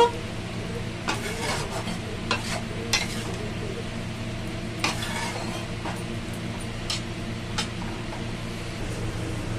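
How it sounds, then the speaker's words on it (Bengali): Boiled watermelon rinds frying with spices in a pan, a continuous close sizzle broken by regular scraping and stirring strokes and occasional light clinks of the spoon against the pan. "এবার এইগুলো মশলার সাথে খুব ভালো করে কষিয়ে নেব।"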